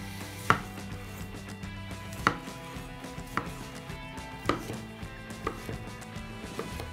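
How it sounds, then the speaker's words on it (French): A knife dices tomatoes on a cutting board with sharp, evenly spaced chops about once a second, close and clear with no talk. "Et on termine avec les tomates qu'on va couper en dés."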